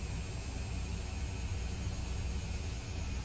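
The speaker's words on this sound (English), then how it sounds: "it takes a little bit of spool time for these engines to go." Jet engines spool up on a business jet in the Microsoft Flight Simulator 2020 game, a faint, steady whooshing roar with a low rumble that holds evenly throughout.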